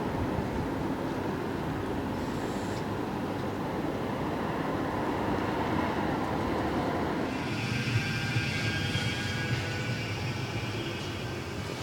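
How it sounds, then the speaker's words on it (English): Manchester tram rolling past toward Didsbury, a steady distant rumble with a faint rising metallic whine toward the end, heard alone outdoors. "Oh, just a tram going there to Didsbury."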